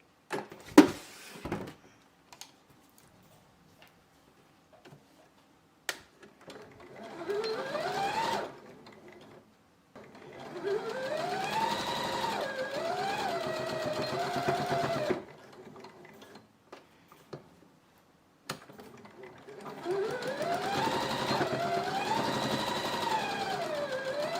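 A sewing machine stitches bias binding onto a towel hair wrap in bursts of steady whirring, each run a few seconds long, separated by quiet pauses and small handling clicks.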